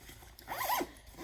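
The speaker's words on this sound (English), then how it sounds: "So you've got the one zipper pull, starts at the top, goes almost all the way to the bottom there" The zipper on a Vera Bradley campus backpack gives one short, faint zip, a quick rasping pull heard up close in a quiet room.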